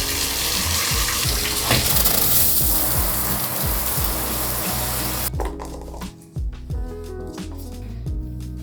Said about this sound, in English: I'm gonna start off with a little shower